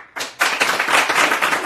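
Applause from a small group of people in a room during an Instagram Live broadcast, breaking out abruptly after a brief pause and continuing as steady, dense clapping close to the mic.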